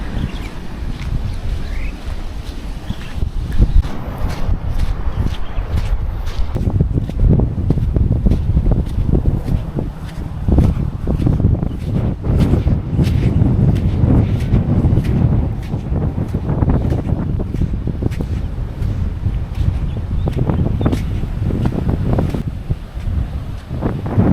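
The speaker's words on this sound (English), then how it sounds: "Whew, it's very windy." Strong gusty wind batters a Maui beach, loud continuous roaring buffets and rumbling microphone noise with a faint wash of surf underneath, no voices.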